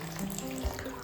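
Water poured steadily into a pot of curry during cooking, a brief close splashing trickle with no voices.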